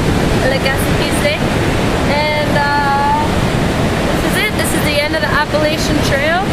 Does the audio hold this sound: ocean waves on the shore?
yes